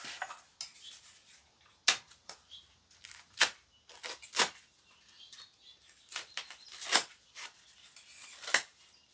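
Plastic ties being snipped off a newly assembled walker, a quiet series of sharp clicks and snaps scattered irregularly across a near-silent background.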